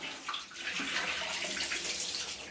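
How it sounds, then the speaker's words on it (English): Hot water from a first rinse during home C-41 colour film development is poured out into a sink, making a continuous close splashing rush that lasts throughout. "I basically use the hot water, and the first one I just dump."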